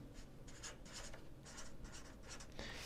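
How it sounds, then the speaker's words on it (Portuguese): Pen writing on a sheet of paper while testing camera settings, a steady scratchy scribble in several short bursts, close and fairly quiet with no talking. "eu vou pegar uma folha de papel e eu vou escrever aqui ISO"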